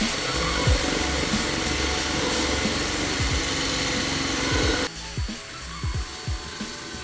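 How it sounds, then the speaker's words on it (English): A rasp bit mounted on a drill carves an indent into a piece of scrap wood, giving a steady, close grinding whine with rough scraping bursts; the sound drops noticeably partway through, leaving quieter intermittent rasping. "I'm going to create like an indent using a rasp from Woodworker. It's like a rasp that you attach to a drill"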